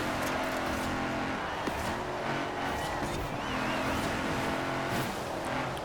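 Mercedes-Benz AMG Hammer Coupe racing in an online Forza Horizon 4 lobby, a steady loud engine drone with shifting rev tones under occasional game noise.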